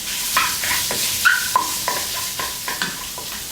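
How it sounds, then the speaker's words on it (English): Minced pork is stir-fried in a hot wok with a steady sizzle, while a spatula scrapes and taps the metal in quick, repeated strokes close up. "Stir to separate the meat and to avoid sticking to the wok"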